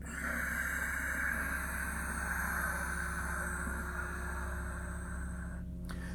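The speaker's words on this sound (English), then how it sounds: "you'll feel that lovely raspy, silky sound from the back of the throat" A long, steady, raspy Ujjayi yogic exhale drawn through a constricted throat, close and breathy with a soft hiss, ending abruptly.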